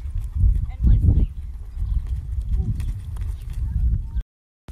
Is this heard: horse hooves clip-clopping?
yes